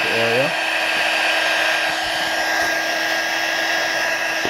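A heat gun blows hot air onto a 7th generation iPod Nano, giving a steady, loud whooshing roar with a faint high whine that runs unbroken through the whole stretch after a brief tonal flutter at the start.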